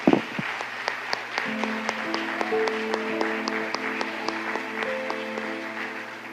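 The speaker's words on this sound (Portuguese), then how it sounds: "Vamos aplaudir o Senhor." Church congregation clapping in praise during an evening service, sparse rhythmic claps at a steady beat over sustained organ or keyboard chords, fairly soft and distant.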